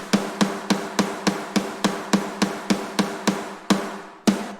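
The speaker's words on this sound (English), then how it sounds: "This is the snare on its own." A processed snare drum, soloed from a mix of a song, strikes about fourteen punchy, close hits in a steady even rhythm, each crack ringing briefly before the next, with two final hits spaced further apart.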